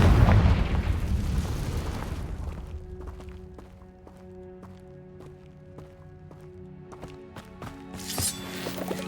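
A loud Confringo blasting-spell explosion from Hogwarts Legacy bursts and rumbles for a couple of seconds, then fades into quieter game ambience with soft ticking steps and tones before another sharp burst near the end.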